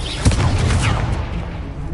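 A Confringo blasting spell going off in the video game Hogwarts Legacy: one loud, deep explosive boom that rumbles and fades over a couple of seconds, heard alone.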